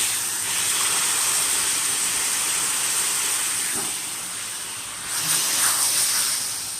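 A frozen Jennie-O turkey cheese bacon burger pressed down on a grill gives off a steady, loud broadband sizzle and hiss that dips briefly, then surges again as the patty is squeezed.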